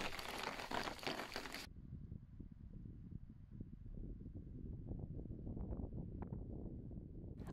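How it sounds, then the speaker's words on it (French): Gusty wind buffets the microphone on a winter mountain path in the Bauges, a bright roar at first that drops into low rumbling gusts and rustle. "le vent se lève"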